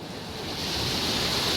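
Ocean waves washing onto the shore near the Ross Island boat point, a steady broad roar of surf swelling slightly louder, heard alone without voices.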